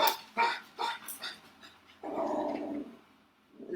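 A pet dog barks several times in quick short bursts, then lets out a longer low growl, close and fairly quiet indoors, with no talk over it.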